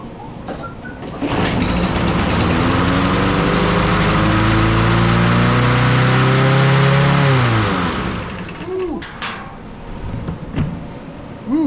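A Troy-Bilt TB110 push mower engine roars up to a high, strained over-rev, holds there for several seconds, then drops off and sputters toward a rough idle.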